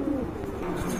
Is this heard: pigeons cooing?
yes